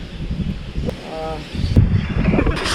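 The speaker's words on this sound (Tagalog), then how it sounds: "Pisuging hangin." Strong wind on a hiking trail buffets the microphone in a steady low roar, with a brief tonal hum in the middle and rustling bursts toward the end.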